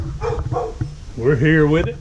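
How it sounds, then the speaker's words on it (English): A chained dog nearby barks in a few sharp yaps, then lets out a longer, whining howl. Someone talks over it. "Sorry about the barking. Not mine."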